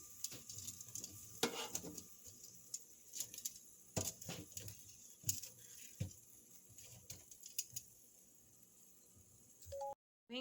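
Chicken wings sizzle and crackle in a frying pan while being flipped, with scraping, clinking turns and sharp spatters rising over a steady hiss, ending abruptly.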